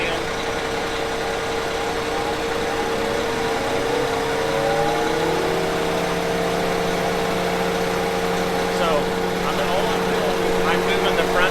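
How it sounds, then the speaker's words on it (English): A Fendt 1042 tractor engine runs steadily at idle throughout, a sustained mid-pitched drone with a slight shift in tone partway through, while someone talks over it. "If you want to start that tractor"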